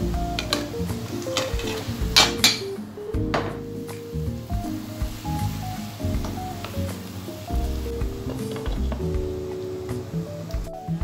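Chicken in soy sauce and black pepper sizzles gently in a pan while being stirred, giving soft crackling and occasional utensil clicks under steady background music.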